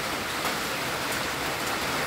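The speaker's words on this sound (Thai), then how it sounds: "ฮะก็ฝนนะครับ" Steady, dense hiss of rain falling, even and continuous with no voices.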